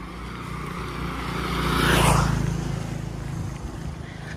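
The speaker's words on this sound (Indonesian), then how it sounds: "motor ya lewat." On a quiet residential street on a Sunday morning, a motorbike approaches from a distance, passes close by with a swelling engine drone, then fades away.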